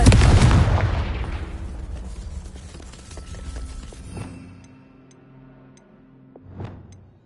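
A Confringo blasting spell goes off in Hogwarts Legacy with a loud, booming burst that decays into a long rumbling tail. Fainter magical ticks and chimes follow, then a second softer swell near the end.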